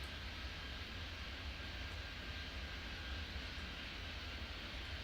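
Jet aircraft engine in the Airport Madness 3D video game, a steady, distant broadband roar with a faint whine that holds evenly throughout, with no talking.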